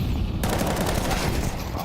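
Pistol fire in a Counter-Strike match, a dense run of sharp shots that starts abruptly partway in and continues steadily to the end, fairly loud, with no talk.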